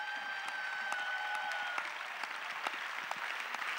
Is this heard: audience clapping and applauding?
yes